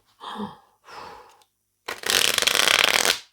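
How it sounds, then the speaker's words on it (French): A deck of tarot cards being shuffled up close: two short riffling passes, a pause, then a longer, louder continuous shuffle. "c'est faire du shuffle avec mes cartes"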